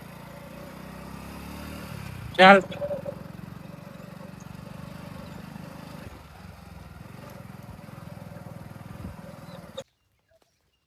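A motorbike runs close by, its engine holding a steady low drone for about ten seconds before cutting out abruptly, with a short sharp noise early on and a brief spoken word.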